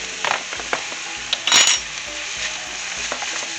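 A chopped Roma tomato and fresh basil sizzle softly in a pan for vodka pasta, broken by a few sharp scrapes and clinks of a utensil stirring, with one louder metallic clatter in the middle.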